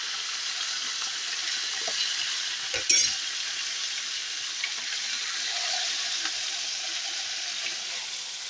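Halved quail pieces fry in hot oil with a steady, close sizzle, broken by a brief clatter of a utensil stirring them partway through.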